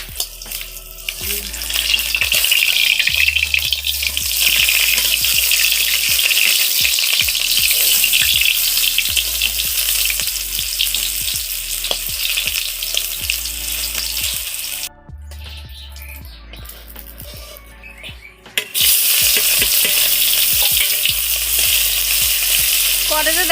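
Fritters (bora) deep-frying in hot oil, giving a loud continuous sizzle with stirring clatter and utensil knocks, briefly cut off and then resuming at full strength.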